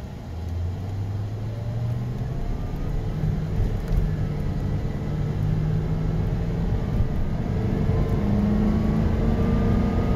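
A 2006 Dodge Magnum R/T with a new police-package PCM, earlier stalling, drives with a steady engine drone and road rumble, revs slowly rising and holding without an early shift, close and continuous inside the cabin.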